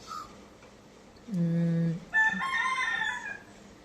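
A rooster crows once, close and loud, its call rising and stretching out over a second or two, with faint background murmur before it.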